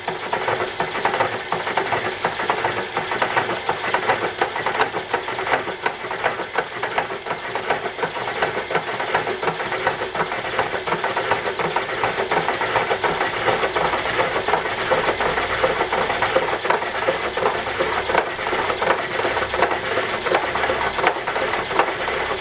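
Welding arc on metal, struck between existing welds, giving a steady dense crackle and buzz that runs without a break, loud and close, with no talk over it.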